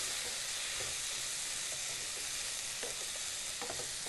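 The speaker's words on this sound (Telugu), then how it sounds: "కరివేపాకు టమాటా ముక్కలు బాగా కలిసేలాగా కలుపుకొని" Tomato pieces and curry leaves are stirred in a pan for a mutton and drumstick curry: a faint, even sizzle with occasional soft scrapes of a spoon, no speech.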